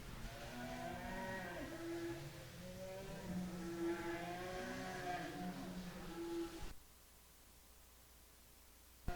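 Bull calves in a cattle show ring call out with repeated deep, drawn-out moos over a steady murmur of crowd and hall noise, then the calling stops abruptly, leaving a quieter room tone.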